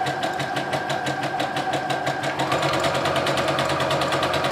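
A sewing machine stitches a zigzag seam near a fabric edge, its needle beating in a fast, steady rhythm close by, the motor pitch shifting slightly partway through.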